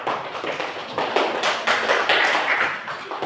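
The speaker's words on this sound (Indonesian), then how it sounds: "Tepuk tangan lagi buat teman kalian" Classroom students clap together for a classmate, a dense, steady patter of many hands that swells and holds at a fairly loud level with no talking over it.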